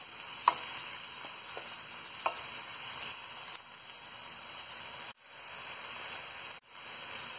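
Steady, soft sizzling of tomatoes frying in a pan, a continuous hiss with a few faint clicks and stirring sounds, no talking.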